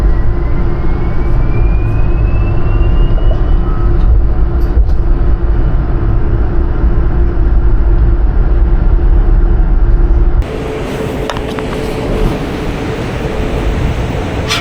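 A Warsaw metro train rumbles loudly from inside the car, with a dense, steady roar and a faint rising whine early on, then an abrupt shift to a slightly lighter, brighter running noise near the end.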